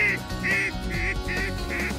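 An American-style duck call blows a series of five evenly spaced, nasal quacks, used to imitate ducks and lure paradise ducks in New Zealand, moderately loud and clear with a low background rumble.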